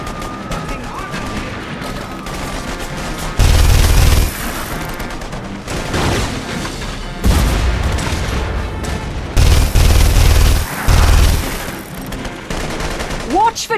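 Loud bursts of gunfire and rattling machine-gun volleys from The Saboteur, a World War II shooter, come in several heavy waves over a steady din of battle, with voices shouting at times.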